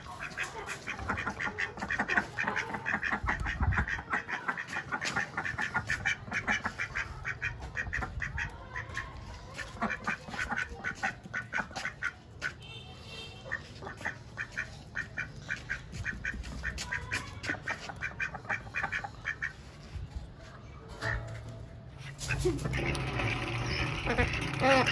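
Mallard ducks quack steadily and loudly at close range, a busy overlapping chorus of calls that runs throughout.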